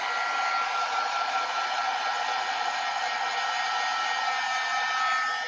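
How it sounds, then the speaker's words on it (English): A hair dryer blows steadily on a drying shimmer gold transfer on a Valentine's craft piece, a loud continuous whooshing drone close to the listener with no breaks or speech. "I got to get my dryer."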